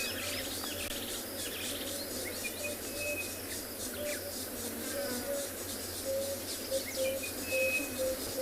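An orange-breasted bushshrike gives a series of short, clear whistled notes repeated at a steady pace on a South African safari afternoon, set against a dense, continuous bed of cricket and insect chirring.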